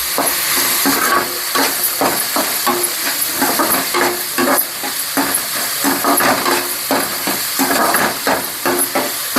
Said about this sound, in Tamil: தேவையான அளவுக்கு காய்ங்க வதங்கி வந்துக்கிட்டு இருக்கு